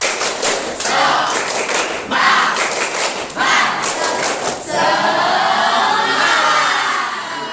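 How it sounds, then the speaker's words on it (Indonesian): A class of children claps together in a fast, steady pattern, loud and close, with voices chanting along, ending in a burst of children's cheering. "sekarang kita tepuk semangat dulu ya"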